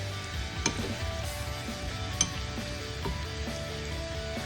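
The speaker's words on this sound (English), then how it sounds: "Fry it nicely till it gets brown." Spices for a dhaba-style moong dal tadka fry steadily in hot oil. A continuous close sizzle runs throughout, with a few sharp clinks of a utensil against the pan.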